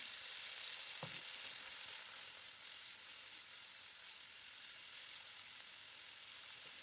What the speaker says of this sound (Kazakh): Енді сарымсақ пен сәбізімізді салып, тура солай қуырып аламыз.